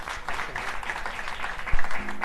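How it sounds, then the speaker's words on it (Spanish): An audience at a flamenco performance in Mijas claps for the guitarist, a dense burst of steady applause that runs throughout the short stretch at moderate loudness. "Un aplauso para él."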